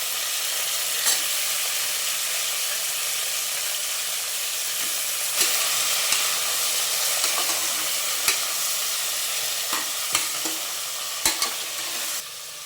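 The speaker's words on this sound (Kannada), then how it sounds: "ಈಗ ಬದನೆಕಾಯಿ ಆಲೂಗಡ್ಡೆ ಸೇರಿಸ್ಕೊತಾ ಇದ್ದೀನಿ ಇದೆಲ್ಲ ಸ್ವಲ್ಪ ಆಯಿಲಲ್ಲಿ ಫ್ರೈ ಆಗಬೇಕು" Eggplant and potato pieces fry in oil in a pan for a village-style masala sambar, with a continuous close sizzle broken by sharp scraping and clinking stirring strokes, and no voices.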